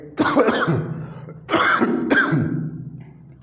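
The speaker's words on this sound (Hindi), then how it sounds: "सॉरी भाई खांसी कुछ ज़्यादा ही आ रही है" A man coughs in harsh bursts: one long fit, then two more close together, near and loud with no talk.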